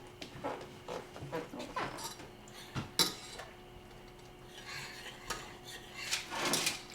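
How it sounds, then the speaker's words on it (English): A spoon scrapes and clinks against a bowl in irregular strokes while stirring stiff cookie dough, quiet and close, with faint background hum. "We just stir that in, and it's quite a a stiff cookie dough"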